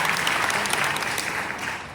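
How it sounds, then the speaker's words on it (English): Steady audience clapping at an Elvis event, a dense, even wash of many hands held at full strength for the whole stretch and easing only slightly at the close. "Just clap if you've never seen me or heard of my story."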